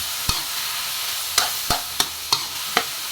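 Igado is stirred in a frying pan: about six sharp spatula scrapes and knocks land at uneven intervals over a steady, close sizzle, with no talking.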